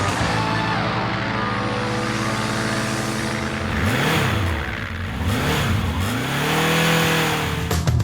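Dirt bike engine revving hard as the rider pulls a wheelie, loud and close, with rising and falling pitch sweeps as the throttle opens and closes over about eight seconds.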